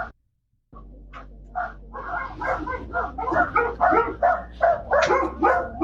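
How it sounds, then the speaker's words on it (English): Several dogs bark in a rapid, overlapping burst after a brief silence, close and fairly loud, with some yips mixed into the steady run of barking. "Some dogs barking."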